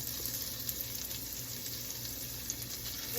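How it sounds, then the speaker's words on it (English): Onions sizzling in melted, warm bacon fat in a pan, a steady close frying hiss with faint crackles and no talking. "Our bacon fat is all melted and warm. And the first thing we're gonna do is cook some onions."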